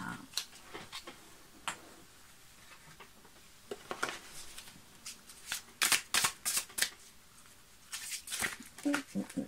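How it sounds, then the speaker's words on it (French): Large oracle cards being shuffled by hand, soft riffling and slapping bursts that cluster into rapid runs, close but quiet, with a voice speaking at times. "C'est difficile toujours à mélanger ces cartes, tellement c'est gros."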